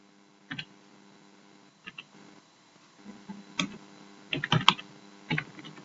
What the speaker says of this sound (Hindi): मैं यहाँ पे कोई डाटा एंटर करता हूँ जी